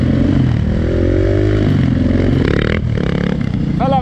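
Dirt bike engine (a DRZ400E or EXC500) revving in second gear while the rider lifts into a wheelie, loud and close, with rising and falling throttle and some clatter.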